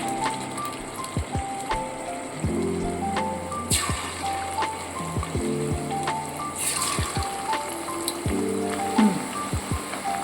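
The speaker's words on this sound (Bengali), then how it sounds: "এইবার আমি একটা একটা করে পকোড়াগুলোকে ভাজতে দেবো" Chicken pakoras fry in a pan of hot oil, a dense, continuous crackle and bubbling with scattered sharper pops throughout, close and fairly loud, with no voices.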